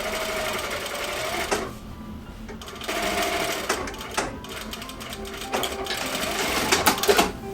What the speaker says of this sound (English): Then you're just going to sew here to create the tunnel.